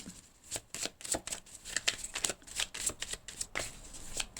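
Oracle cards shuffled by hand for a reading, a close, steady run of crisp riffling flicks and soft slaps repeating over several seconds with no talk.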